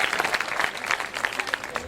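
Audience at a poetry stage event honouring a police superintendent breaks into clapping, with uneven bursts of individual claps standing out over a crowd wash and no voices.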